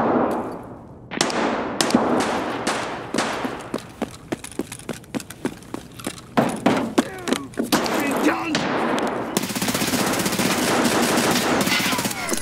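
A firefight in the video game Escape from Tarkov, with rapid bursts of automatic gunfire and sharp single shots cracking repeatedly, loud and near, followed by a sustained stretch of continuous firing.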